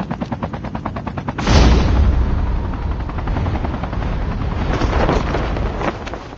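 Helicopter rotor in the Call of Duty Mobile battle royale game, a steady rapid thumping that is loud and close, mixed with a burst of gunfire and a sustained roar of wind noise.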